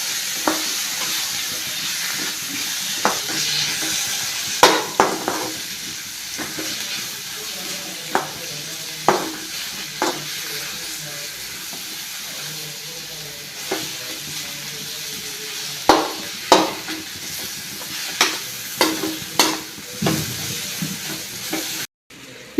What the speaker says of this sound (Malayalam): ഇനി അടുത്തായിട്ട് ഇതിലേക്ക് തക്കാളിയും പച്ചമുളക് അരിഞ്ഞ് വെച്ചേക്കുന്നത് കൂടി ഇതിലേക്ക് ഇട്ട് കൊടുക്കാം